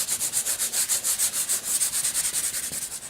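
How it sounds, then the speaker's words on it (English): Ultra sandpaper is rubbed over a cracked leather repair area in quick, regular back-and-forth strokes, roughly six per second, giving a close, rhythmic scratchy hiss that continues throughout. "first thing we're going to do is sand this area down a bit with our Ultra sandpaper"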